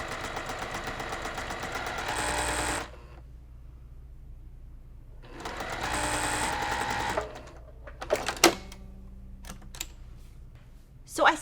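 A home sewing machine stitches a quarter-inch seam on fabric for a cross-stitch mug rug in two steady whirring runs, followed by sharp clicks and handling knocks near the end.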